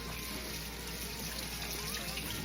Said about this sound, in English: I like to wash my beans off because I don't know what that stuff is that they put inside the can.